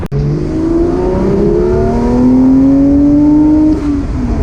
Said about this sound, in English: There's that 4-liter. Why you buy this car, for the sound.